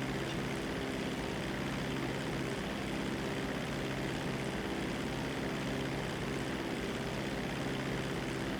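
A seaplane's propeller engine drones steadily in a video game, a constant loud hum with a low buzzing tone throughout and no talking.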